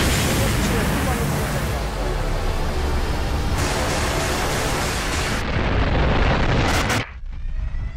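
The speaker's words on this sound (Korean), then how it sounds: "백두산 화산이 폭발했습니다" A Baekdu volcano eruption explosion sound effect roars as a loud, sustained broadband rumble like blasting wind and debris, cutting off abruptly near the end.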